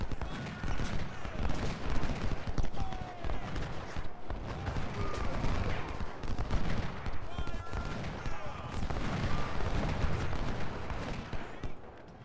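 Continuous battlefield gunfire and musket volleys from the Ultimate General: Civil War game's Siege of Jackson, a dense, steady crackle throughout with faint talk mixed in.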